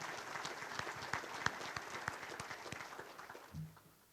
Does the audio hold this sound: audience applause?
yes